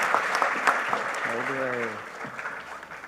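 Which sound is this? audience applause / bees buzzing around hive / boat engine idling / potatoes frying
audience applause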